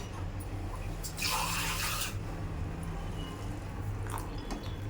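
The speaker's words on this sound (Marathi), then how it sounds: "त्यामध्ये आपण पाणी ॲड करू." Water pours into a pan of pomfret curry in a short splashing burst of about a second, set against a low, steady background hum.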